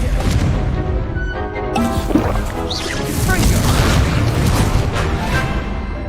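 Incendio fire spells exploding in Hogwarts Legacy on PS5: loud, dense, overlapping booms and crashing blasts fill the stretch without a break.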